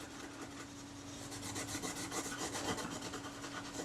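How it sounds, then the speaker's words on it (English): Steady rasping scrape as residue is worked off the metal body of a Kodak Retina Reflex IV camera, close and continuous with repeated short strokes that grow busier midway. "Some of it's going to need a little bit more scraping"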